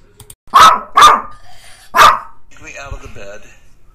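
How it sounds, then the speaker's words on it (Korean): A rescued puppy barks loudly three times in a close, strong rhythm, followed by quieter whining or yipping sounds. "구조된 강아지의 힘찬 짖는 소리를"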